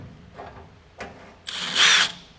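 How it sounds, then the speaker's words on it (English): A drill runs briefly with a 1/4 inch pilot bit and cutting fluid, boring a pilot hole for custom firewall roll bar brackets on a 1960s GMC/C10 truck; a few short taps, then a louder, bright whining burst, close and alone. "This is a 1/4 inch pilot bit."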